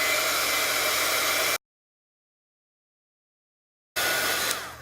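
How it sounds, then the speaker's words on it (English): Heat gun blowing a steady, loud airy roar while melting embossing powder on a craft piece, cut off abruptly for a couple of seconds of silence before resuming. "now we need our heat gun and a tool to hold it down so we don't burn our fingers"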